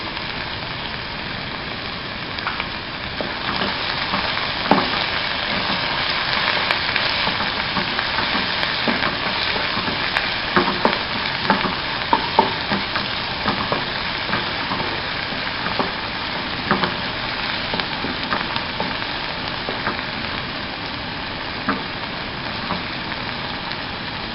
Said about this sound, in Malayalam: ഉള്ളി പെട്ടെന്നൊന്ന് മൂത്ത് വരാൻ കുറച്ച് ഉപ്പ് ചേർക്കുക.